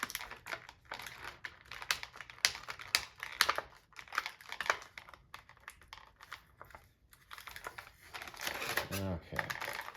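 Packing tape being peeled and handled while a parcel is unboxed. It makes quick crackling and crinkling bursts in uneven clusters, close and fairly loud, with intermittent talk from a nearby voice.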